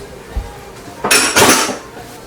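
Linguine with clam sauce and fresh parsley tossed in a metal pan, utensils scraping and clinking against the pan in a loud burst of about a second, preceded by a soft thump.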